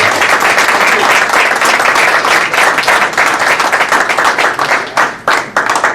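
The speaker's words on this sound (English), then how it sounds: "please join me again in this round of applause" A round of applause at a school board of education meeting, a sustained, dense clapping from a room of people that tapers off near the end.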